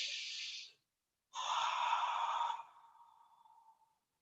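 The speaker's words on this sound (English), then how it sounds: "Deep breathing in your chest area." Slow, deep breaths drawn into the chest during a breathing exercise: a long airy inhale or exhale, a pause, then a longer, louder breath that trails off softly. Close and clear, with no talking.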